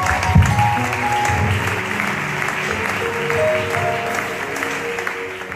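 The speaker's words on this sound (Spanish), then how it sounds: "Le damos un fuerte aplauso" A congregation at a church service applauds steadily together, a dense, even wash of clapping that holds for several seconds with no one speaking over it.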